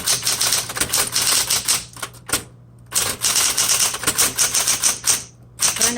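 A 1960s Smith Corona Coronet Automatic 12 electric typewriter types in steady, rapid bursts of sharp key strikes over a constant motor hum, with two short pauses where only the hum remains.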